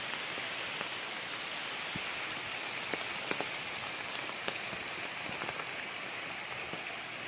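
Rain pours steadily at Khao Chamao waterfall in Thailand, a dense hiss of water on surfaces with scattered louder drop ticks, continuous and fairly close, and no voices.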